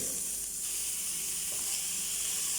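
Onion and pepper cook in a pan with tomato, giving a soft, steady hiss and faint sizzle that runs unbroken and fairly quiet, with no talking.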